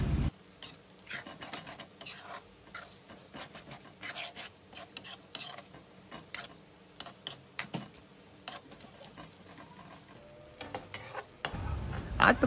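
Bicol Express simmering in a pan with coconut milk, stirred in a steady run of soft scraping and rubbing strokes under a faint sizzle, fairly quiet and close, with a louder clatter near the end.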